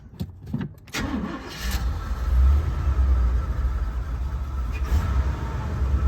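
A 1978 Buick Electra engine idles unevenly close by, its steady low rumble bucking and hesitating throughout, after a brief louder start at the beginning.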